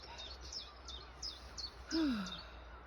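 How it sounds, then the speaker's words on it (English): Birds outdoors give a run of quick, evenly spaced high chirps, followed by a louder falling whistle, faint and somewhat distant against quiet background noise during a walk. "And birds making their song in the air, in the sky."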